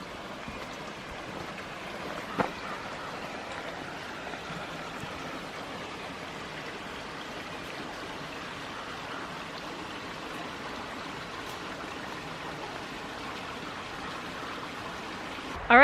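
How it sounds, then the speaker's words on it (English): A waterfall in Pisgah National Forest pours steadily, a soft, even wash of rushing water heard from some distance, unchanging throughout with one small knock partway. "I love breathing in the water ions when a waterfall is coming down like that"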